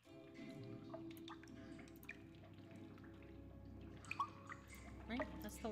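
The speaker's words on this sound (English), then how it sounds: "Ooh, the sound of trickling water." Quiet water trickles and drips in a cave within a Nancy Drew adventure game, a continuous soft flow with occasional louder drops, heard under a person talking.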